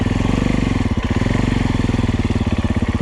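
A Husqvarna FC350 or Husaberg FX450 dirt bike ridden through tight woods at low speed, its engine chugging in a loud, close, rapid steady pulse with no talking.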